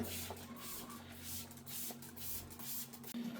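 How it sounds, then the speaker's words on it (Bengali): Disinfectant is sprayed inside an egg incubator in short hissing bursts over a constant mechanical hum from the machine. "ইনকিউবেটরটা একটু ই করতে হবে জীবাণুনাশক দিয়ে স্প্রে করে নিতে হবে"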